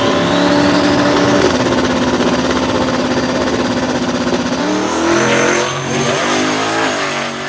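A nitro drag racing car at a heads-up drag racing event in Canada revs loudly and continuously, a close, roaring engine note that holds steady for several seconds before shifting near the end.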